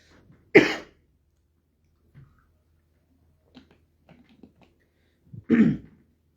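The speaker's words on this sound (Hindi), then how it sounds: "मुझे खांसी तेज हो रही है" Two sharp, close coughs from an adult with a fever, one near the start and another near the end, with faint small noises in the quiet between.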